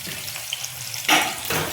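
Onions drop into a pan for paneer curry and start frying, with a quiet hiss before the sizzle jumps up loudly near the end and is followed by a second burst.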